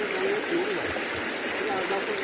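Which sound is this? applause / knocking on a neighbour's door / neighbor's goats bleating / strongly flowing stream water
strongly flowing stream water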